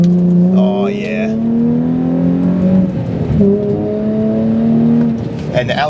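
A Nissan 350Z engine pulls steadily under acceleration while driving, a loud close drone rising in pitch, easing and climbing again, with faint voices at the start and end.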